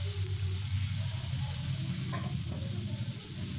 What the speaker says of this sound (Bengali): নেড়ে চেড়ে আলুটা ভেজে নেব।